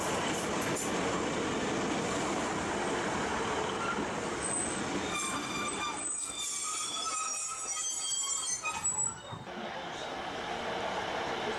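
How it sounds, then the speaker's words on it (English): A two-car Class 150 Sprinter diesel multiple unit arrives at a small Welsh station, rumbling steadily with squealing wheels and brake tones rising midway, moderately loud then easing off. "Arriving from Menai is a 2-car class 150 Sprinter"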